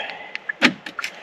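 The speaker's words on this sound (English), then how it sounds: "Doors lock." Power door locks on a 2023 Hyundai Venue actuate, giving a quick cluster of small mechanical clicks and one firmer clack, close and isolated.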